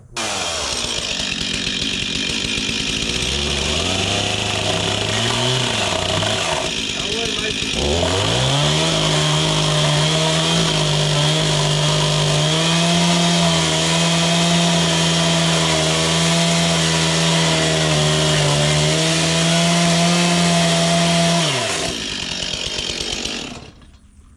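A loud chainsaw runs steadily, its engine pitch dropping and holding under load as it cuts through wood during repairs to an old barn roof, then revs down and stops.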